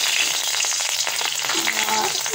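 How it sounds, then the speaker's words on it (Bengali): Slit green chilies sizzling in hot oil in a wok, a bright continuous frying hiss with small crackles throughout, close and steady. "তেলটা গরম হয়ে গেছে, আমি কাঁচা লঙ্কা চিড়ে দিয়ে দিলাম।"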